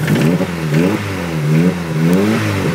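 A 1998 Dodge Neon engine runs close by and revs repeatedly, its pitch rising and falling in several quick surges over a rough mechanical clatter, with no voices.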